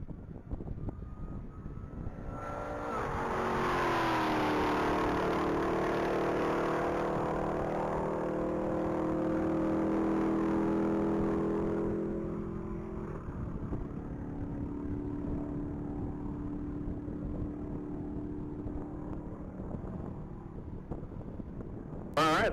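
A 2021 Dodge Durango SRT accelerates down a mile-long top-speed racing track, its engine note swelling and climbing loudly as it passes before fading into steady wind noise.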